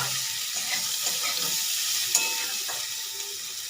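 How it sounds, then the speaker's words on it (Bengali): Amla, Indian gooseberries, frying in a pan over a gas flame, a soft steady sizzle with faint stirring scrapes, close but fairly quiet. "এবার আমলকিগুলোকে কিন্তু একটু গ্যাসের ফ্লেমটা দিয়ে আমি রেখে আমলকিগুলোকে খুব ভালো করে একটু ভেজে নেবো"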